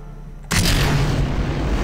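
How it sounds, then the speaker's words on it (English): Solid rocket boosters igniting at launch in Kerbal Space Program: quiet hum, then an abrupt loud roar that holds steady and sustained, close and powerful. "And we have ignition of the solid rocket boosters."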